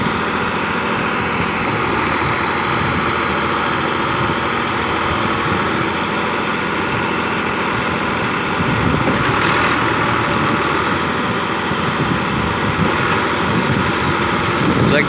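An Al-Ghazi 65hp tractor stuck in deep mud with its tires slipping, the engine roaring steadily and loud throughout, with a slight surge in strain toward the end.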